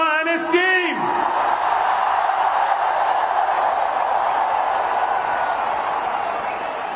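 A huge crowd cheers Team India at the T20 World Cup victory parade, a dense, loud, continuous roar of voices, opening with a brief shout rising over the mass.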